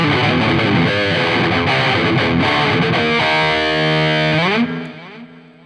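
Electric guitar through a new HX Stomp Helix 2.90 preset, heavily distorted and thick with chorded riffing, loud and continuous, then easing into a sustained chord that fades at the end.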